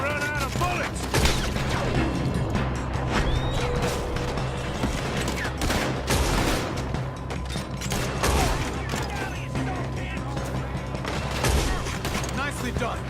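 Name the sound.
gunfire in Red Dead Redemption 2 video game shootout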